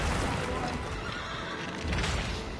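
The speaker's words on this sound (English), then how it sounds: "Where's my horse? He sounds like he's freaking out." Horse in the video game Shadow of the Colossus whinnying and neighing in agitation, a loud continuous burst of noisy, broadband game sound with no voices.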